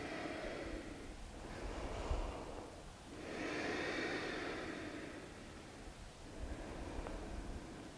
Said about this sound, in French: Inspirez à fond. Et expirez à l'avant.